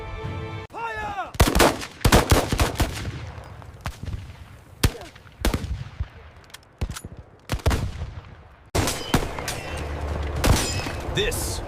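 Rapid bursts of modern army rifle fire crack out in repeated volleys, loud and close, broken by short gaps and some whooshing passes, with a voice speaking among the shots.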